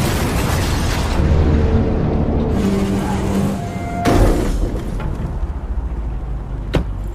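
A truck exploding in an action film after its tire is shot out, a loud roar and rumble with a sharp burst partway through, followed by crackling debris and a fainter crack near the end.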